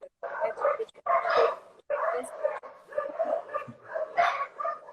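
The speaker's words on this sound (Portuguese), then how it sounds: "Os cachorros da vizinhança resolveram latir todos agora." Neighborhood dogs bark in a repeated run of yips and barks, fairly close and mixed with whimpers, with someone speaking Portuguese over them.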